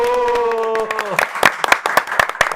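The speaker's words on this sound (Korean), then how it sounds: "함께 박수 치겠습니다" At a political rally, a voice shouts a name, then a crowd answers with loud, irregular clapping that builds into scattered bursts of applause.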